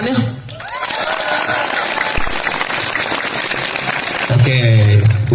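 A school audience at SMKN 2 Sawahlunto claps and cheers during a stand-up comedy show, a steady wash of applause and crowd noise with a voice speaking over it.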